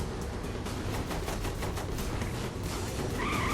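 Sustained, rapid gunfire from Saints Row The Third fills the whole stretch, a dense rattle of overlapping shots at steady loudness with no pauses, close and loud throughout.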